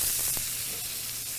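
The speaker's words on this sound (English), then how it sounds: "that sizzling sound, one of my favorite things in the kitchen" Meat seared flesh side down on a hot griddle gives a steady, close sizzle and hiss that holds for about a second and a half without any talk.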